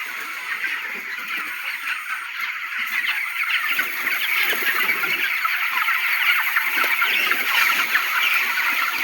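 A large flock of some 4,800 farm chickens clucks and squawks in a thick, unbroken chorus that swells slightly louder midway, with no voices over it.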